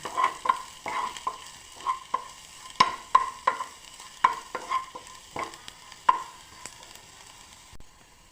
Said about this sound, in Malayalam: ഇതിലേക്ക് മുളക് പൊടി ചേർത്തിട്ട് നമുക്ക് ഇളക്കി കൊടുക്കാം